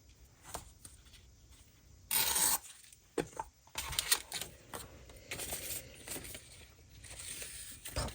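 Scissors snipping through a newspaper page for a junk journal, quiet close crackles and paper rustling with a louder burst of handling midway, no talk.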